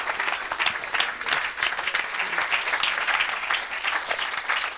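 A congregation at a Saturday church service claps enthusiastically, a lively, rhythmic wave of applause with pulsing swells, moderately loud and sustained throughout.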